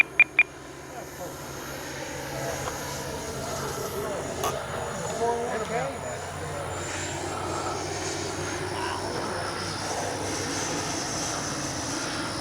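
An FMS Avanti S 90mm electric ducted-fan RC jet, powered by a Turnigy 5,000 graphene battery, makes a low, slow pass with landing flaps down. Its steady whooshing roar holds throughout, with a couple of sharp beeps at the start.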